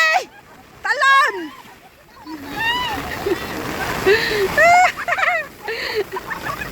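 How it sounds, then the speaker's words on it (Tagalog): Heavy rain pours down while people splash and play in the water at a rainy outdoor gathering, with a steady wash of downpour under loud shouts and cheering voices. "Ayan, lakas na nga ulan guys."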